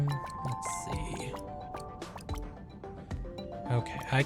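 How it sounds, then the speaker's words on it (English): Small water drips plink repeatedly and irregularly in a cave-like space in a crafting survival game, mixed with clinking game effects and occasional soft squishy sounds, with someone talking over parts of it. "There's stuff dripping all the time."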